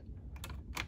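Slide switches on a 1970s Rock-Ola jukebox keyboard clack twice in quick succession, close and crisp against a low background hum.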